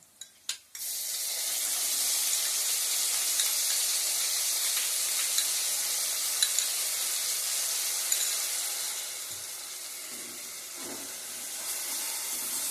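Masala frying in oil for a goat head curry: after a few sharp knocks at the start, a loud, continuous sizzle holds steady close up and eases off slightly toward the end.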